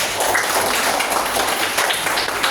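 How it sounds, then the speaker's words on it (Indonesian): A classroom of children claps for group 1, a dense continuous patter of applause from many small hands, loud and steady throughout. "beri tepuk tangan untuk kelompok 1"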